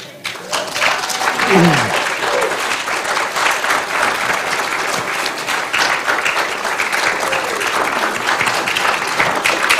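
Worship service congregation giving a standing ovation: sustained, dense clapping from a large crowd, loud and even across the whole stretch, with a voice briefly audible near the start.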